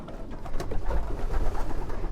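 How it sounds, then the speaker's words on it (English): Pigeons cooing in a loft, a dense, low, rumbling murmur of several birds close by, continuous and fairly loud for a couple of seconds. "Got a bunch of birds in here."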